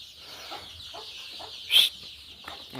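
Soft, scattered clucking from a hen with about seventy chicks, with faint chirps, and one brief louder squawk partway through.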